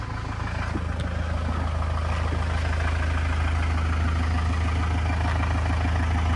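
A 3.5 ton van engine with a replaced timing belt idles steadily up close, a constant low rumble with a faint ticking rhythm running unbroken throughout, no talking.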